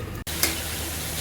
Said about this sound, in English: Now we will roast it and fry it till it become curry consistency in the kadai.